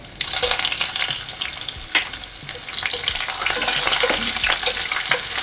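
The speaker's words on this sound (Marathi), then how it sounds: "आता मी याच्यामध्ये मिरची घालते आधी" Green chillies go into a pan of frying peanuts over low heat, giving a loud, steady crackling sizzle close up, with small spattering pops and occasional stirring scrapes.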